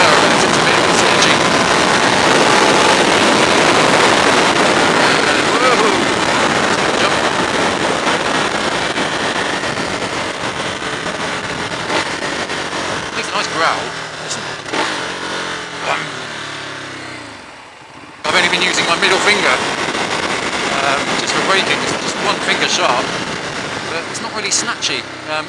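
A 2015 Ducati Hyperstrada cruises on the road at about 50 to 60 mph, its engine droning under heavy wind rush, with someone talking over it and a brief dip in the noise near the end.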